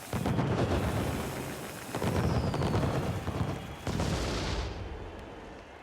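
Fireworks in the pay-per-view intro of WWE Hell in a Cell 2012, recreated in the WWE 12 video game: three booming bursts of crackling pyrotechnic blasts, loud and continuous with no talk.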